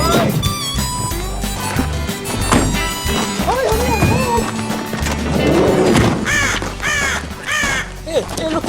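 A crow caws loudly several times in close succession over a busy background of thumps, music and other noise.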